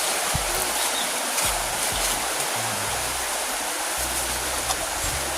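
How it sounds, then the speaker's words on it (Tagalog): Constant rushing hiss of flowing water, like a stream or river, with low rumbles and faint irregular knocks underneath; no one speaks. "dito sa tabing ilog"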